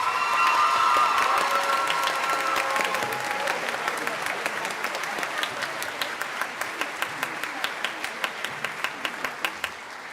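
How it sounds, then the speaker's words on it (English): Audience applause fills a spring concert hall, starting as a dense, loud wash of clapping with a few cheers, then thinning into scattered, distinct claps toward the end. "can we give them one more round of applause?"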